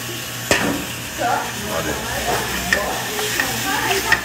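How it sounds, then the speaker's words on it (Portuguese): Shrimp sautéing in a restaurant pan with fine herbs and saffron sizzles steadily, with clattering utensil stirs and scrapes, close by, as someone speaks briefly in Portuguese. "já vou colocar o camarão aqui pra refogar aqui"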